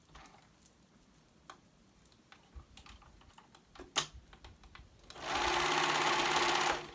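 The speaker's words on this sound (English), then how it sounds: "Match the raw edges and sew it together." Sewing machine stitching a sweater seam through three layers, heard as a brief close whirring burst near the end after quiet handling sounds.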